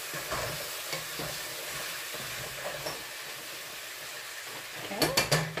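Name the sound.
chicken frying and stirring in pan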